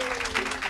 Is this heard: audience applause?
yes